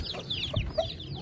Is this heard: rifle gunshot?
no